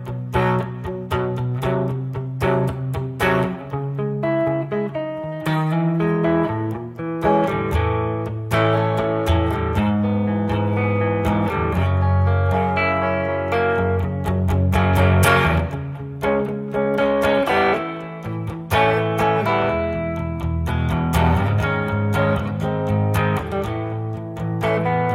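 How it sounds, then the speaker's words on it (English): An electric guitar fitted with Tom Brantley boutique pickups plays a gentle, rounded-tone passage through a Dusky amplifier, with sustained chords and single notes that ring on and overlap, clean and unhurried, for the whole stretch. "Let's play something maybe a little gentler that demonstrates a little more of the round tones I can get out of these pickups."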